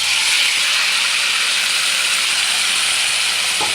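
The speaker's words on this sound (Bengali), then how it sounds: "এবার মেখে রাখা মাংসগুলো আমি দিয়ে দেবো।" Marinated meat hits hot oil tempered with dried red chillies for a mango and meat curry. A loud, steady, close sizzle hisses continuously throughout.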